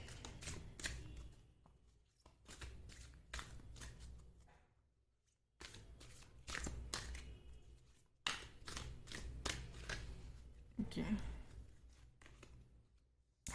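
Tarot cards are shuffled and drawn in quiet close-up, with clusters of quick riffling and crisp card slaps separated by short pauses.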